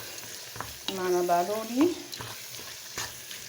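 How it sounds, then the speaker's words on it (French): Rice and vegetables frying in coconut oil with coarse salt, stirred in the pan, giving a bright sizzle with scraping strokes close by; a short spoken phrase comes in over it. "Je mélange et je mélange bien."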